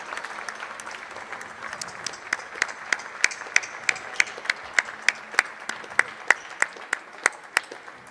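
A crowd at a men's first-division basketball game claps for the Vestri children, steady applause with a few sharp nearby claps rising in rhythm through the hall.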